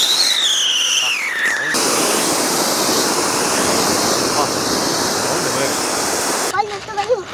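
Fountain firecrackers from Harish Crackers in Sivakasi spray continuously in a loud, dense, hissing rush that holds steady for several seconds, preceded by a brief whistling tone and ending in crackling bursts.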